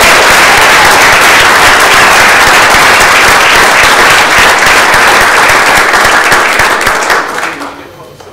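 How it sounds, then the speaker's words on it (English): Loud, dense applause from the audience at a city council regular meeting for committee members, continuous clapping close by that fades out in the final second. "So please give them a huge round of applause."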